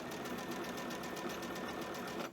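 Sewing machine running steadily with a free-arm setup, a continuous fast mechanical whirring and rapid needle ticking at close range, with no talk over it.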